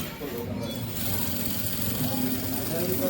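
A sewing machine stitches the fly of a pair of pants, giving off a continuous mechanical whir that holds steady from start to finish with a faint low hum beneath it.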